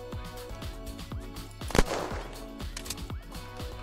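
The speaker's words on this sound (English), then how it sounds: "so I'm thinking I'll just open fire" Gunfire in the zombie survival game Unturned on the Belgium map: a sharp shot stands out midway over steady background game music and ambience, with a few fainter impacts around it.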